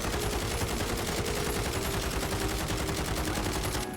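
A CR56 assault rifle fires in a video game as a continuous, rapid, loud burst of automatic shots that lasts nearly the whole clip.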